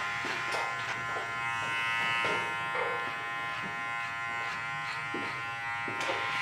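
A steady electric trimmer buzz runs throughout while a large beard is trimmed, with brief rises and dips as the cutter moves through the hair, close and continuous with no talk.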